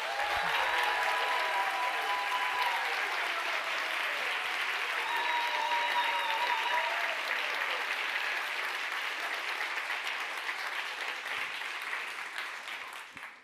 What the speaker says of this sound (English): Let's measure the applause.